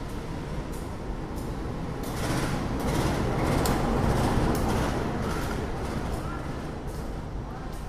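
Busy elevated platform at Gambir Station in Jakarta, a broad steady rumble of station noise and idling train machinery with faint distant clatter, continuous and fairly loud throughout.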